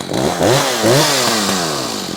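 An Echo CS-590 chainsaw runs close and loud during carburetor tuning, its engine speed wavering up and down in a few quick surges before settling into a steady, fast idle.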